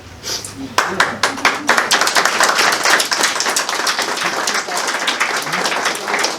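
Wedding guests clap during a speech, beginning with a few distinct claps that swell into sustained applause from the room, with voices talking over it.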